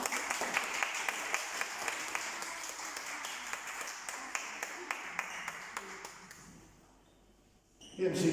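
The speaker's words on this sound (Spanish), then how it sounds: "¿Podemos volverme a dar un aplauso?" A church congregation applauds for a member's birthday at a Sunday service. The clapping is moderate and steady with distinct individual claps, then dies away into near quiet before a brief burst of sound at the end.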